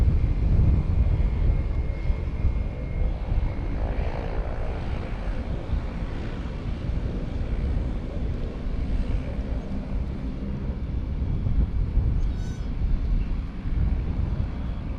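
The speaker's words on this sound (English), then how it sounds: "this is going to be JetBlue flight JBU 2631 heading over to Punta Cana, the Dominican Republic. PUJ Airbus A320." A JetBlue Airbus A320 airliner at San Juan's Luis Muñoz Marín International Airport, its jet engines giving a loud, steady broadband roar that holds for the whole stretch with little change.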